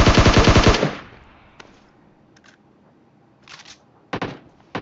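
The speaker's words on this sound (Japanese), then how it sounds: "おお、なんか狙撃されてる" Gunfire in PUBG Mobile, with a sniper among the shooters: a loud, close rapid burst opens, then near silence, followed by scattered sharp shots and a few quick bursts that seem more distant.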